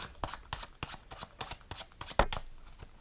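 Playing cards being shuffled during a card trick: a fast run of crisp riffling flutters and taps in an uneven rhythm, close and fairly quiet, with no talking.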